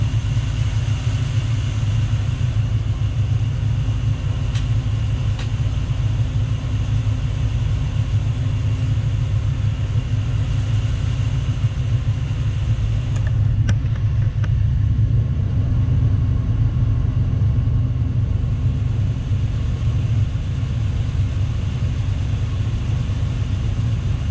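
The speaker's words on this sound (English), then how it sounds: "So the RPM for these engines at idle is 750. It's like a Chevy truck." Twin engines of a Luhrs 28 boat idling while warming up, a steady low rumble running continuously and evenly, close and loud, with no voices.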